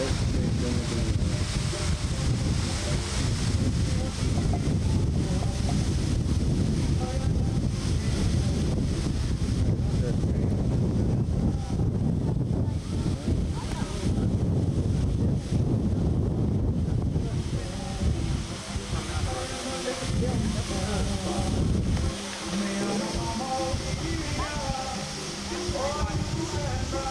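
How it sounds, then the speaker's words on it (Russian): A jungle waterfall at Waimea roars as a continuous broadband rush, heavy and close, with wind buffeting the microphone and brief voices underneath. "Так, пришли к водопаду. Видите, как он шумит."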